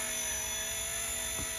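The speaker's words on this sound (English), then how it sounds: "This is one of the best small-scale helicopters I've flown." An RC ERA C189 MD500 small-scale RC helicopter flies close by with a loud, steady high-pitched whine from its rotor and motor. The tone holds throughout, with one brief swell near the end.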